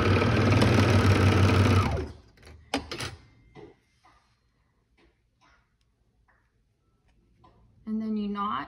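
A sewing machine hums loudly and steadily for about two seconds while sewing over a seam on a romper, followed by quiet clicks and then a voice speaking.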